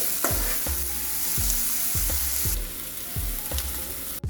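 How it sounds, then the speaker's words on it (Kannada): Onions sizzling in a pan for Uttar Karnataka-style pasta, steady frying hiss with about eight regular scraping strokes of a spoon stirring, close and loud, no voices. "ಉಳ್ಳಾಗಡ್ಡಿ ಕಲರ್ ಚೇಂಜ್ ಆಗೋ ಮಟ್ಟ ಸ್ವಲ್ಪ ಉಳ್ಳಾಗಡ್ಡಿ ಹಸಿ ವಾಸ ಹೋಗೋ ಮಟ್ಟ ಹುರ್ಕೋಬೇಕು"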